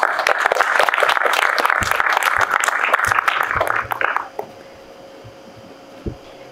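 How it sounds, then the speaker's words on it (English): Dinner guests at a Korea–US friendship banquet give a dense, lively round of applause that holds steady for about four seconds, then quickly dies away, leaving a quiet room with a couple of stray claps. "give our youth ambassadors one more big round of applause"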